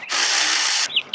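A power tool undoes 10 mm headlight bolts on a Honda S2000, giving a close, high-pitched whir that lasts under a second, followed by a couple of short squeaks.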